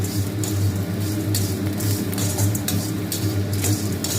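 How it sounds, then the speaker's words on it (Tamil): Ingredients stirred and sautéed in a pan, a busy run of close metallic scrapes and clinks from a utensil against cookware over a steady background hum, continuous and fairly loud. "நல்லா வதக்கி விடுங்க"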